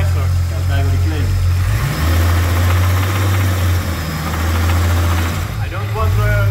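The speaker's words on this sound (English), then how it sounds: "We have some knocking. But it runs, guys!" A car engine with a knocking fault idles loudly with a steady low drone and a faint rhythmic tapping underneath, while voices talk over it.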